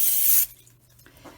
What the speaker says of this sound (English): So the very first thing you'll need to do is spray the pan.